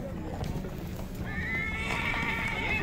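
Horses neigh and whinny with clip-clopping hooves at a suburban horse market near Bishkek, a loud whinny rising midway over steady crowd murmur and nearby talk.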